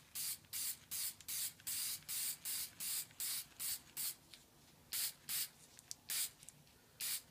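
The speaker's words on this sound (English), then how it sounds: "Okay, we're just going to use some spray lacquer to finish this." Spray lacquer hisses from an aerosol can onto a wooden screwdriver handle in about a dozen short, even bursts with brief pauses, close and clear.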